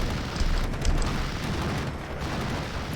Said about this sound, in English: in for another strafing run here